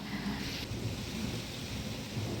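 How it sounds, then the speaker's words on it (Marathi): Heavy rain and wind in a May storm pour steadily with a deep rumble underneath, a continuous dense wash of sound without any voices. "बघा इतका वारा पाऊस आहे"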